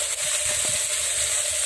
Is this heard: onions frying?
yes